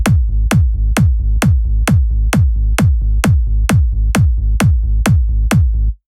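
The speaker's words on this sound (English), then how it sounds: "I have a kick and a bass, or kick or subgroup, and it sounds like this." A punchy kick drum thumps steadily about twice a second, each hit blending into a deep sustained sub bass from the Diva synth, loud and alone.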